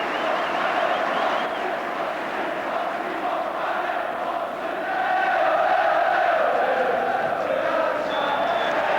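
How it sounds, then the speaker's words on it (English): A large football crowd at a Liverpool match roars in sustained cheering, a dense, steady wall of voices that swells a little toward the end. "A thunderous cheer for another championship performance from Liverpool."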